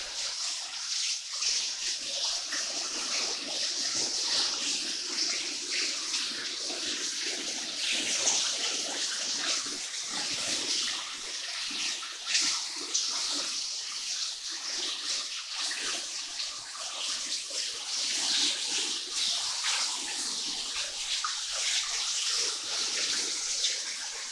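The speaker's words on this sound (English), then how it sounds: "And now for the waterfall." Waterfall in the Blue Mountains heard from close by, a continuous dense hiss of falling, splashing water that stays loud and unbroken throughout, with no talk.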